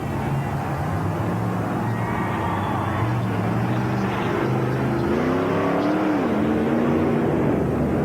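A blown Chevrolet engine in a monster truck roars continuously at a race, its pitch rising and falling with revving over a dense, loud crowd-and-arena wash.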